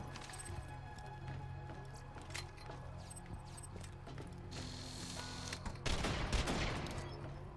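Explosive-round gun firing in Borderlands 2, scattered cracking shots that give way to a louder burst of blasts near the end, all under busy game background sound.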